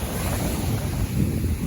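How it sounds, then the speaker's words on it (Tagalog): Strong ocean waves at a beach: a steady, loud roar of surf with wind noise, continuous and close, with no voices. "Napagod naman ang lakas ng alon dito guys."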